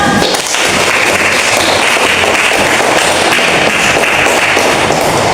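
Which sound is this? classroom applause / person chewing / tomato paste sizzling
classroom applause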